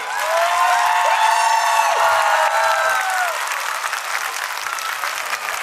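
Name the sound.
audience applauding children on stage at annual day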